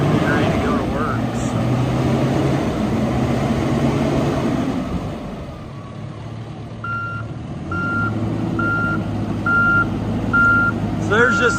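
A 2014 John Deere 410K backhoe drives with a steady diesel engine rumble, then shifts into reverse and sounds a regular series of loud, evenly spaced backup beeps over the continuing engine.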